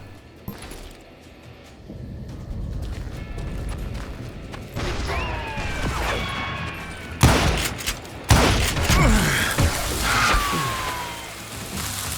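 Gunfire in a first-person shooter game: a steady rattle of shots under a low rumble, with sharper, louder bursts and impacts toward the end, no speech over it.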